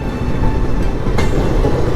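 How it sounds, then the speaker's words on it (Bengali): The Kanchenjunga Express passing near the Farakka Barrage, a steady loud rumble of rail cars rolling by close at hand, with a brief brighter clatter partway through. "কাঞ্চনজঙ্ঘা এক্সপ্রেস।"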